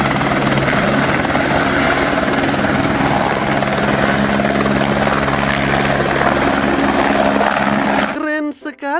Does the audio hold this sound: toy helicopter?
yes